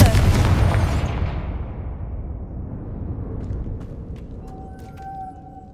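A Confringo blasting spell detonates in Hogwarts Legacy, a loud booming burst that rolls and decays slowly over several seconds into a low rumble, with faint chimes near the end.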